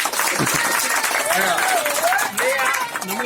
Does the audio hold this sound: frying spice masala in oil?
no